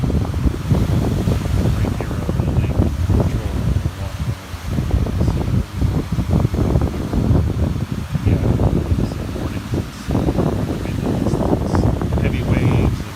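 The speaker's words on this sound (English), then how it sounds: "Some days the rhythm of the ocean is more relaxing than others." Ocean waves washing against the shore under steady wind, recorded from the beach as a continuous rumbling surge with gusts buffeting the microphone throughout.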